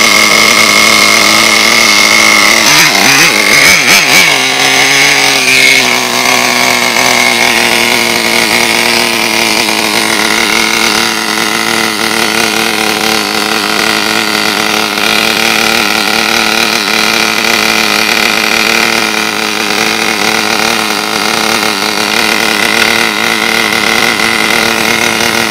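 An HSP 94166 Pro 1/10 scale nitro RC buggy engine runs loud and close, a buzzing high-pitched whine that rises sharply early on and then holds a steady, raspy rev for the rest.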